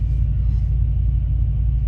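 A truck engine idles at a fuel stop with a loud, steady low rumble and a regular throbbing pulse, close and unbroken throughout.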